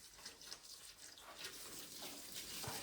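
Water pours from a big, heavy watering can in a Victorian conservatory during plant care: a steady, close splashing gush with no pauses.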